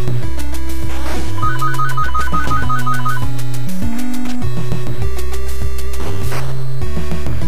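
A phone ringtone plays loudly and continuously, a melodic electronic tune with repeating phrases ringing out alone with no talking over it.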